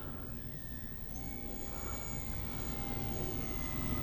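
An FMS Pilatus PC-21 RC plane with a 3200 4S battery flies at full throttle, its electric motor giving a steady, moderately distant whine that slowly builds in loudness over a constant background rumble.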